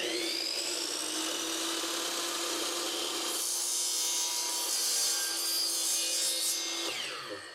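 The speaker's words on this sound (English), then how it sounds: "We're going to bring it over to the chop saw and then do it same thing to the other one." A chop saw cutting through Hifax rail slide plastic, heard as a loud, steady whining cut that runs for about seven seconds, shifts pitch midway, then winds down, close by with no talk.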